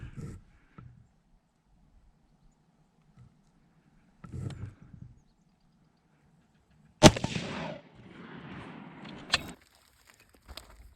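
A gunshot strikes a steel body armor plate: one sharp, loud crack with a ringing, noisy tail. It stands out amid quiet, sparse handling noises and a few faint bumps before and after.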